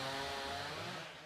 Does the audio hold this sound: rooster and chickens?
no